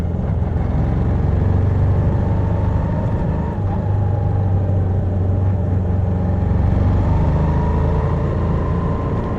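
A Moto Guzzi V85TT motorcycle cruises along a quiet rural redwood road with a steady engine drone and wind rush. The sound stays constant and close, rising slightly at moments.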